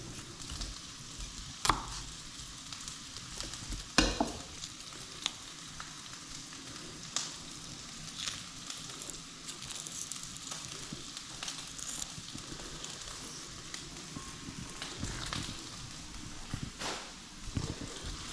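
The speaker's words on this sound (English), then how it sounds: "they've gone from being like quite a harsh sizzle" Sausages sizzle in a frying pan at a soft, steady crackle, with several louder clatters and scrapes as they are stirred and turned.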